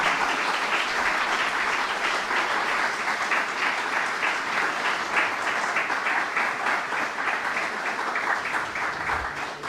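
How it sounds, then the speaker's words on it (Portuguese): An audience claps for a choir in sustained, steady applause lasting around ten seconds, a dense even patter at moderate volume. "Se vocês quiserem dar uma animadinha neles com uma salva de palmas"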